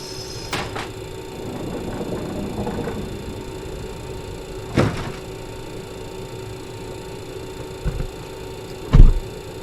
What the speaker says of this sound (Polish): I słychać jak drzwi się zamykają, wiecie, jak się zasysają praktycznie